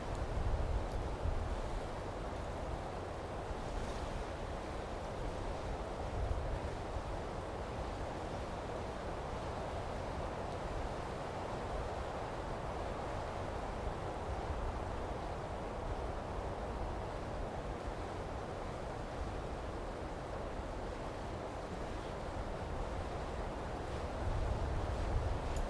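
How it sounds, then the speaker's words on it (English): Strong wind gusting steadily outdoors during bad weather, a dense continuous roar with occasional louder buffets against the microphone and no speech. "You can see how strong the wind is."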